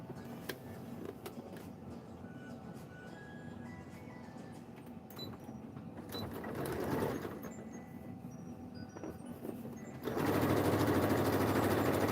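A sewing machine stitches a jacket shoulder seam. Faint, intermittent handling and mechanical sounds come first, then the motor starts up steady and loud near the end.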